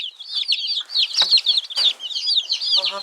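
Newly arrived baby chicks huddled together peep without pause, a close, dense chorus of shrill overlapping chirps with a brief lower rustle at the very end.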